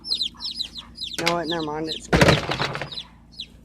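Chickens clucking in a pen close by, with repeated short clucks and squawks, while people talk over them and a clatter breaks in partway through.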